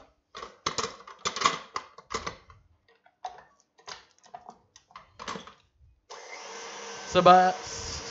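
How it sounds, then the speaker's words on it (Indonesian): Electric hand mixer beating instant pudding mix with cold UHT milk, a steady whirring drone that starts partway through and grinds louder near the end, after a stretch of scattered clicks and small kitchen knocks. "Kemudian kita aduk dengan mixer."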